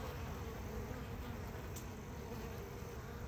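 Honeybees swarm around their hive in warm weather, a faint, steady buzzing hum that continues evenly with no talking.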